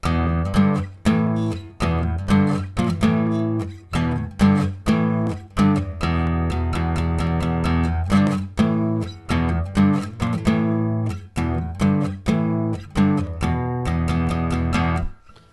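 An electric guitar plays a riff in punchy power chords, strummed in short rhythmic bursts with brief gaps between phrases. Clear and close.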